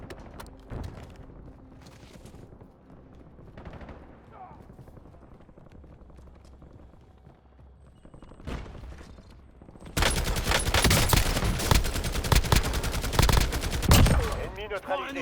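Gunfire in the Call of Duty video game: scattered shots over quieter game sounds and speech early on, then a dense, loud burst of rapid automatic fire in the last five seconds.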